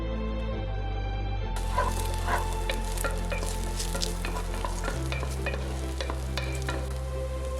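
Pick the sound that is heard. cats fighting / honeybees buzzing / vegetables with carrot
vegetables with carrot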